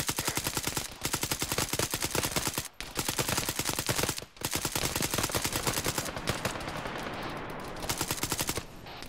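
Sustained automatic gunfire in the military video game ArmA 3 with British SBS forces: loud, rapid bursts of machine-gun fire broken by a few brief pauses, continuing to the end.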